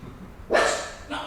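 Puppies barking indoors with tango music playing, a short burst of yipping barks up close followed by a briefer second bark, with soft background noise.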